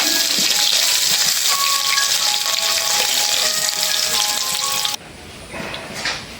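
Loud, close, continuous sizzling and crackling of tilapia fish frying in oil in a wok; the dense sputter holds steady, then drops abruptly to a much quieter level near the end.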